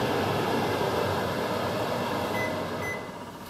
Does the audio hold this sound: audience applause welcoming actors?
no